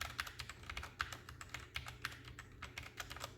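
Typing on a Royal Kludge RK71 mechanical keyboard, a steady run of crisp, fairly quiet clicking keystrokes in quick irregular rhythm, close up and alone.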